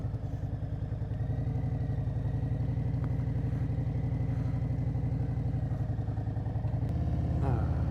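A motorcycle rides with the helmet visor raised, steady engine drone and rumble mixed with constant wind buffeting, loud and close throughout, with a slight shift in tone near the end.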